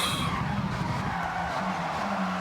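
Car braking hard and skidding in the racing video game Forza Horizon, a continuous loud screech of sliding tires over steady engine roar lasting a couple of seconds.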